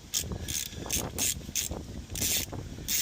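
A ratchet wrench clicks in quick, repeated bursts while loosening a 10 mm bolt on a 2011 Mazda 3i during a transmission oil change, close and fairly quiet, with short pauses between strokes.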